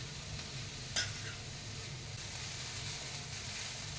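Grated carrot fries in hot ghee for carrot halwa, a steady close sizzle with a spoon stirring through it and one brief scrape or clink early on, no voices.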